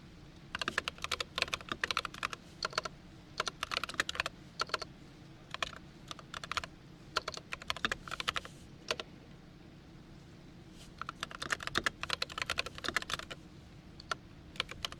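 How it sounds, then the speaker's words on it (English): Rapid clicking of a computer keyboard being typed on up close, in bursts of quick keystrokes separated by short pauses. "Keyboard ASMR."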